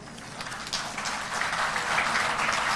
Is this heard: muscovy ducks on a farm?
no